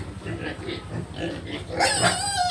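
A pig grunts and squeals while being dewormed with ivermectin on a farm, the noisy calls coming close and repeated, rising into a louder, higher squeal near the end amid background chatter.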